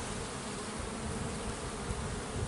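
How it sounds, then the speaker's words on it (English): Honey bees swarm around a packed hive in a dense, steady buzz that stays close and constant throughout. "the hive looks absolutely full with bees, which is lovely"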